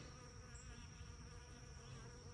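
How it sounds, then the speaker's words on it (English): Faint, steady buzzing of bees hovering close by on the ground near a river, a continuous insect drone over quiet outdoor background. "I heard buzzing. I couldn't figure out what it was. There's bees everywhere on the ground here."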